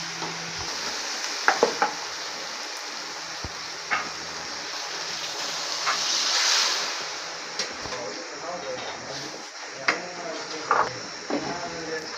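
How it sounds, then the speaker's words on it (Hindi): Potatoes frying in a pan at home, giving a continuous sizzle broken by scraping stirs and sharp clicks of a spoon against the pan, moderately loud throughout. "साथ ही आलू भून जाएंगे।"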